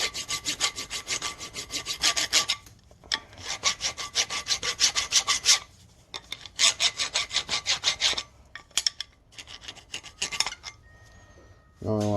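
Rust is scrubbed off a front brake part of a 2008 Chrysler Town and Country minivan, close rhythmic rasping strokes in fast bursts separated by short pauses.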